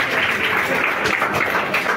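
An audience at a prize distribution ceremony in a coaching class claps steadily as two children receive their prize money on stage. The clapping is dense and even throughout the short stretch, with no voices over it.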